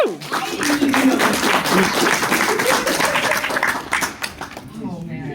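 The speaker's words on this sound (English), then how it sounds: "let's clap for them." Audience clapping at a furry convention panel, a crowd's applause rising quickly and sustained under excited voices and cheering, then thinning out near the close.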